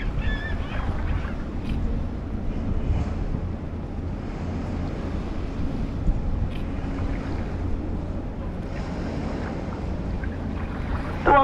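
The lake freighter Walter J. McCarthy Jr., loaded with iron ore pellets, departs through the Duluth Ship Canal as a steady low rumble. Wind buffets the microphone and a few faint honks come from farther off.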